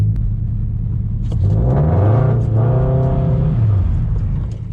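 A Toyota GR86's engine revs up and down in repeated swelling bursts as the car slides through a figure-eight drift, its exhaust note rising and falling loudly and close throughout.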